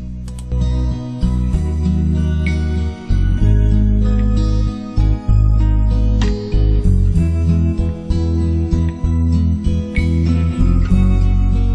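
The instrumental intro of a Korean slow-rock song plays loud and full, with strummed acoustic guitar over steady bass and drums in a slow rhythmic groove, and no voices.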